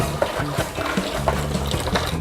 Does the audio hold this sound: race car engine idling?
no